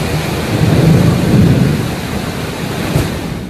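Heavy storm rain pours steadily in Riyadh, Saudi Arabia, with a low continuous rumble of thunder swelling and fading beneath the dense, hissing downpour, loud and unbroken.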